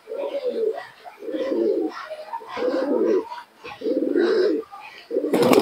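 Giribaz pigeon cooing at a pigeon sale in Murshidabad, five close, throaty coos in a regular rhythm with short gaps between them, ending in a brief burst of noise.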